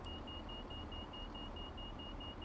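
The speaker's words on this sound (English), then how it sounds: "Of course, you get the audible alarm no matter where you're standing." A train cab alarm in Train Sim World 4 beeps in a steady rapid rhythm of evenly spaced tones, faint but distinct over a low rumbling cab background, with no talking.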